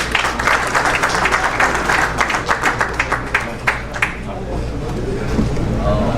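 Applause from a seminar audience welcoming a guest speaker at a Gulf Urdu Council literary seminar in Jeddah, dense clapping over a steady low hum, thinning out after about four seconds into room murmur.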